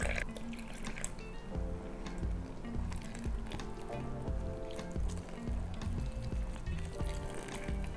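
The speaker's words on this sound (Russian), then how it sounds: "Вливаем ее сюда же в миску и начинаем замешивать тесто." Matnakash dough is kneaded by hand in a bowl, with soft wet squishing and slapping sounds repeating irregularly, faint and close, with light background noise.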